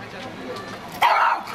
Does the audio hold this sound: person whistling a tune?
no